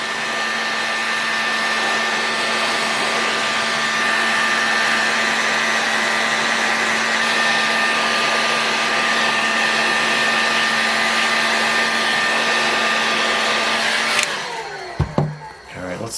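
A heat gun blows hard against a big aluminum casing from a Super Tigre S3000 engine, a loud, steady whirring hiss that runs on evenly, then cuts off near the end with a few clunks and handling noises.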